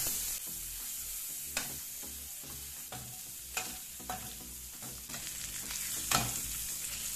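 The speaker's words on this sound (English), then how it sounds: "Extra hot pepper, shrimp in, saute most of the way through." Shrimp sautéing with garlic and extra hot pepper in hot oil, a steady close sizzle with a few sharp scraping stirs of a utensil against the pan.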